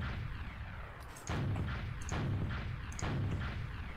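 Rocket blasts launching a player in the Jump Academy video game: three or four loud, booming explosive shots roughly a second apart, each a sharp burst with a deep rumbling tail over steady background noise, with no talking.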